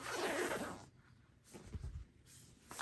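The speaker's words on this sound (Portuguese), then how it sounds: "pode abrir o zíper" Zipper being opened on a fabric bag during a sewing project, a quick close rasp followed by fainter scraping and handling.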